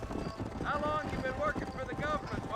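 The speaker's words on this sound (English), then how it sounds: "O negócio é que o cavalo às vezes ele dá uma disparada" A horse gallops in the video game Red Dead Redemption, rhythmic hoofbeats thudding close under someone talking, with brief tonal game sounds over them.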